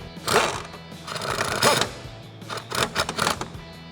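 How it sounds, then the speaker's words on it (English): Brake line bolt being tightened during a lowering spring install on a 2015-2019 Ford Mustang, close bursts of rapid ratcheting or tool rattle with short pauses, loud and alone. "get your brake line bolt back in place. Go ahead and tighten it down."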